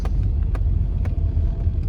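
A car rolls in and parks near a hilltop temple, its engine a loud, low, close rumble with a few faint clicks over it, steady throughout and with no talk.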